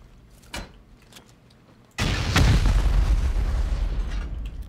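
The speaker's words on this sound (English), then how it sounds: "I'm gonna have to rocket this out." A rocket blast tears into a base during a raid in a survival game: after a few faint clicks, a sudden loud explosion erupts and rumbles on with a long, heavy tail.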